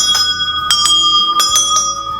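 Metal bells in a home puja room ring clear and close, struck about six times in an uneven rhythm with bright, lingering tones.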